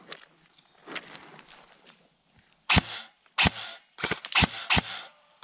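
Several sharp gunshots crack out in quick succession in a deathmatch video game, close and loud, after a quieter stretch of faint rustling.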